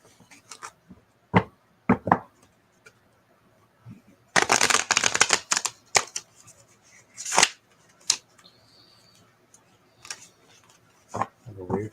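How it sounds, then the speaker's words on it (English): Tarot cards are shuffled in several quick riffling bursts, with a longer shuffle in the middle and soft handling noises between, close and without talking. "I have a weird shuffle there."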